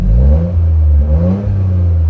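A 2025 Toyota GR Corolla engine revved with a bassy exhaust, two loud close rises and falls in pitch settling into a deep idle.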